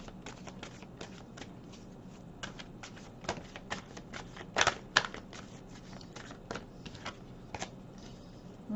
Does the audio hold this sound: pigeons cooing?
no